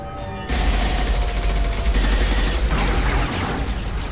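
Heavy sustained gunfire in Mass Effect 2 Legendary Edition, a dense loud barrage that begins abruptly after a brief quiet moment and continues almost without break to the end, with a slight dip in intensity near the close.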